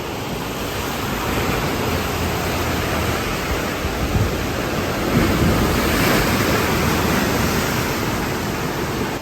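Ocean waves at a Bali surf camp right on the water, a constant broad roar of surf with wind buffeting the microphone, swelling slightly midway.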